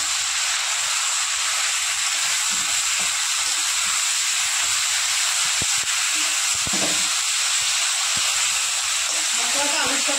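Ginger, onion and garlic paste frying in hot oil in a pan for a bata fish curry, giving a loud, steady, close sizzle and hiss that runs throughout with faint low sounds beneath.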